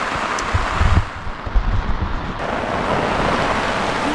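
Heavy rain and gusting wind in the mountains near the Tayabas–Mauban boundary in Quezon, a dense roaring wash with buffeting rumbles against the microphone, loud and continuous.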